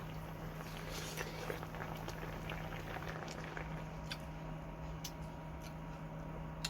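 A pot simmers at a steady boil, an even, quiet bubbling wash with scattered small pops and taps throughout, heard close up without voices.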